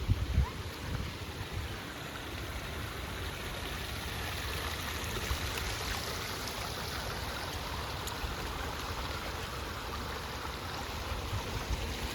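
A small stream flowing near a waterfall by a little dam, heard as a steady, broad, moderately quiet rush of water that stays even throughout, with no voices.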